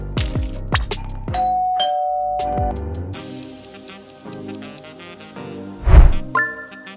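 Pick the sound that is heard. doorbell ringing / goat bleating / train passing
doorbell ringing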